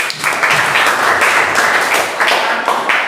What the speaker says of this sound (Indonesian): Ya tepuk tangan buat David.